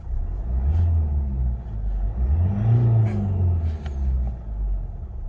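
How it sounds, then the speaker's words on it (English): A Lexus IS 220d diesel saloon engine revs at standstill, a low rumbling idle swelling into two or three smooth, restrained revs and settling back, heard close and alone without talk. "I'll give it a quick rev. You can hear it's very, very quiet in here."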